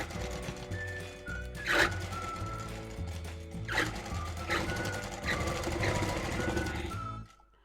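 A sewing machine stitching piping on a katori blouse, with several loud, close bursts of rapid mechanical running between quieter pauses, ending abruptly.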